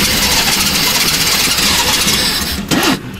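Old GAZelle van engine cranking and catching, then idling roughly with a steady close mechanical rumble and a brief surge near the end.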